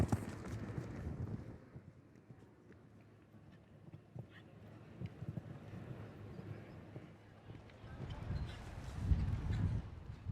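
A 12-year-old Zangerscheide mare canters through a Grand Prix show-jumping round, her hooves thudding faintly and rhythmically on the arena footing, with wind buffeting the microphone and the beats swelling louder near the end.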